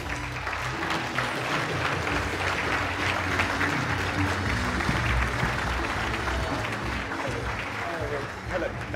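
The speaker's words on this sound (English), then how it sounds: "let's welcome CIMA's current president, Simon Bittleston." A conference audience at CIMA Engage 2024 applauds to welcome the CIMA president, producing dense, sustained clapping from a large crowd that carries steadily from start to finish at moderate distance.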